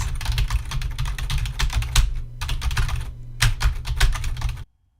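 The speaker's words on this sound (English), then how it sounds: "I was left there pounding on my keyboard like this." Rapid, forceful typing on a computer keyboard while playing a casual game, a dense clatter of key presses in bursts with two brief pauses, close and loud, ending abruptly.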